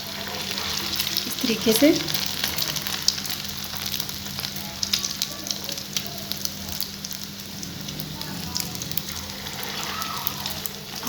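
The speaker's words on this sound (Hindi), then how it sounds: "ऑयल आंच हमें मीडियम रखनी है, मीडियम टू लो फ्लेम पे हमें इसे फ्राई करना है।" Potato finger snacks with an egg coating frying in oil over a medium-to-low flame, a steady crackling sizzle throughout, with a brief soft spoken phrase near the start.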